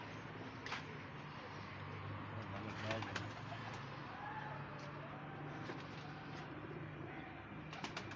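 Pigeons coo softly on a rooftop, low repeated calls in the background along with occasional wing flaps and faint traffic, the scene quiet and somewhat distant.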